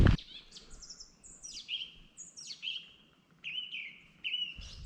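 Birds sing alone in a remote, abandoned village, with repeated high chirping calls and whistled phrases in short bursts against an otherwise quiet background.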